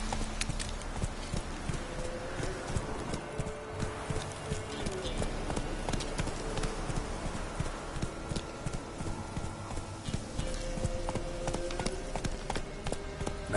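Roach the horse galloping in The Witcher 3, a steady rhythmic clip-clop of hooves running throughout, with low game ambience underneath.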